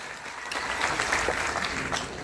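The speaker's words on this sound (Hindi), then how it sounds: "जोरदार ताली अगर बात पसंद आए।" Audience applause at a live outdoor district foundation day event with a singer, a dense steady round of clapping from a large crowd lasting the whole stretch.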